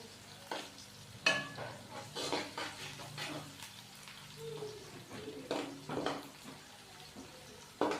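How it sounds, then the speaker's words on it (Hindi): Onions fry in a pan for a village-style green chana pulao, a steady hiss broken by scraping stirs and clinks of a utensil against the pot, fairly close and moderately loud. "प्याज को हम हल्का सा लाइट ब्राउन करेंगे।"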